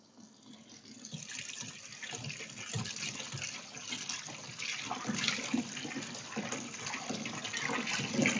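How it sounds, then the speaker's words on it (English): Tap water running into a sink over fresh noodles being rinsed and chilled, a steady close splashing stream that grows slightly fuller as it goes. "Then I'm gonna go to the sink. Going to wash and chill the noodles."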